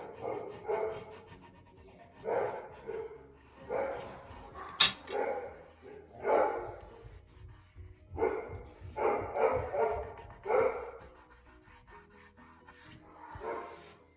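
Dogs bark in the background in a series of short bursts spread over about fourteen seconds, moderately loud and somewhat distant, mixed with rubbing and rasping noises.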